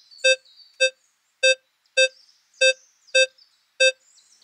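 A metal detector set to a long sustain gives seven evenly spaced target tones, each a bright, harmonic beep that rings briefly before cutting off, loud and clear over near silence.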